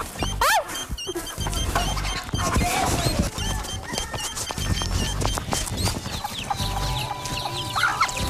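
Hens cluck and squawk repeatedly during a chicken-catching game on a Marathi village TV game show, close and busy over scuffling, thumps and a few background voices.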